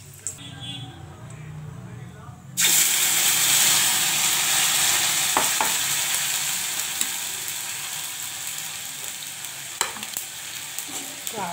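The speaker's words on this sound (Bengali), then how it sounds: "জিরা, কালো জিরা, তেজপাতা ফোড়ন দিলাম।" Cumin, black cumin and bay leaf hit hot oil with a sudden loud burst of sizzling after a few quiet seconds with a voice, then crackle steadily and slowly ease off, with a couple of sharp pops along the way.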